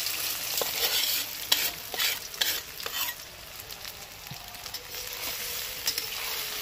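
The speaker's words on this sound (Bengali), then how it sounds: "তেলটা দেখো পুরোপুরি গরম হয়ে গেছে, এবার সয়াবিনগুলোকে এক এক করে দিয়ে দেবো, পুরো একসাথে ভেজে নেব ভালো করে" Soya chunks dropped into fully heated oil fry with a close, steady crackling sizzle, broken by brief louder spatter bursts and stirring, with no voices.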